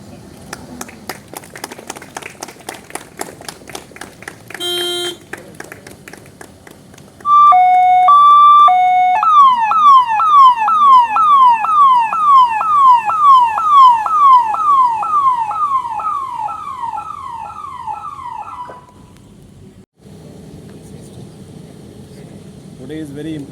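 A new ambulance donated to Osmania General Hospital sounds its siren at close range, first with short yelps and then a steady rapid wail that cuts off abruptly, with voices and clapping faint in the background.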